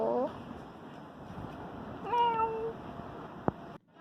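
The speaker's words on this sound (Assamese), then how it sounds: "লণ্ডনৰ মেকুৰী কি বুলি মাতিলে বা বুজি পায়?" A cat in London gives a single clear meow midway through, moderately close, over a low background hum with a person talking nearby.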